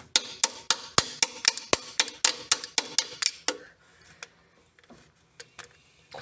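A bolt end on a Morris Minor dynamo being tapped with a tool, a quick run of about a dozen sharp metallic knocks, close and loud, then a few sparse lighter taps after a pause.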